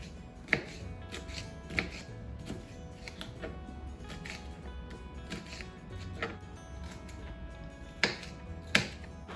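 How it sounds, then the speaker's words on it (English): Sharp knife cuts through a pepper on a cutting board while preparing a vegan chickpea dish, giving a few crisp, isolated snaps spaced several seconds apart over a quiet background. "Here's the perfect pepper for cutting."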